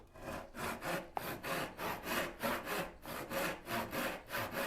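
A handsaw cuts a dado into a wooden board, about fourteen even back-and-forth rasping strokes in a steady rhythm, close and alone, with one small click partway through.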